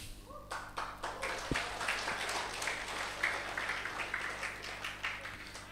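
An audience at a spiritual lecture breaks into faint, scattered clapping, a soft patter of many hands heard from a distance that continues unevenly for several seconds.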